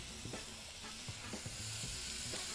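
Liver and onions sizzle steadily in a hot pan while a utensil scrapes and stirs with a few soft, irregular strokes. The frying is close and continuous, with no voices.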